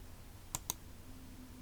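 Two crisp computer mouse clicks in a software menu, close and distinct, spaced a fraction of a second apart over a low, faint background hum.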